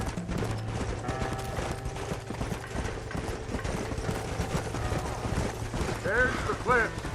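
Horse hooves clip-clop in a steady rhythm in the Red Dead Redemption video game, mixed with creaking tack and gear sounds, a brief whinny-like call near the end, and voices talking over part of it.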